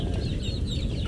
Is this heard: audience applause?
no